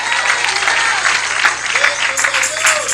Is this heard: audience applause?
yes